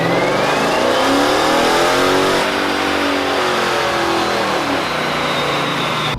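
A big-power Hemi engine revs hard on a dyno, a loud sustained scream with rising and falling engine pitch, close and unbroken, with no talking.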